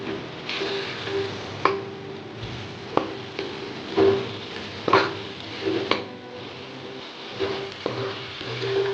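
Egg roast masala stirred in a pan with black pepper and garam masala, a spoon knocking and scraping the pan in repeated sharp taps at an uneven rhythm over a low background, and no one speaking.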